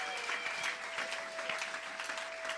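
A church congregation applauding, sustained dense clapping from many hands that stays fairly even in loudness, heard from within the room with faint voices mixed in.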